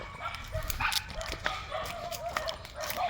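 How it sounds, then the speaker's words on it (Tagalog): A dog barks and yips in short, sharp bursts amid outdoor rural surroundings near tamarind and mango trees, fairly close, with a few brief human sounds mixed in. "Aso."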